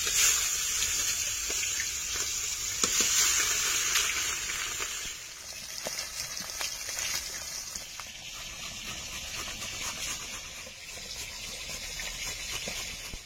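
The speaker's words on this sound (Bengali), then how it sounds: "দেখুন ঠিক এরকম করেই ভাজতে হবে, তাহলে কিন্তু খুব ভালো হয়। এবার যে কটা আছে সেই কটাও ভেজে নেব।" Pieces of katla fish fry in oil with a continuous watery sizzle and rush, strongest early and easing a little mid-way, close by with no clear voices.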